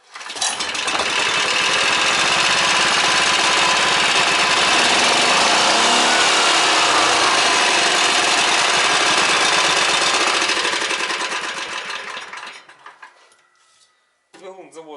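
A Motor Sich walk-behind tractor engine, just fixed after a spark fault, catches at once and runs with a loud, close, steady clattering roar for about eleven seconds before cutting out into quiet.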